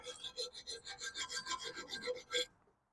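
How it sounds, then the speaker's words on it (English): A rat tail file rasps back and forth inside corroded bores on a front axle extension, about a dozen quick, even rubbing strokes close to the microphone, then it stops abruptly with no talk. "a rat tail file in here in these bores and make sure that we clean out any kind of gunk"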